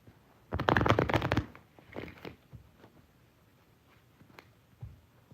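Playing cards riffle-shuffled in a quick, dense burst of close flutters lasting about a second, then a few softer follow-up riffles and taps in a quiet room.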